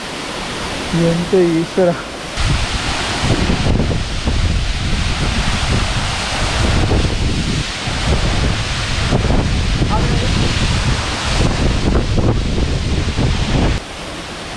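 Kadamagundi waterfall in Karnataka roars as a loud, continuous rush of falling water with wind buffeting the microphone, and people exclaim and talk briefly over it near the start.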